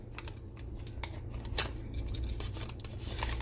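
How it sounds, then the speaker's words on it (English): Half a stick of butter being shaved with a vegetable peeler, quiet intermittent scraping strokes and small clicks at close range, with no talking over them. "I'm actually going to shave this butter with my peeler."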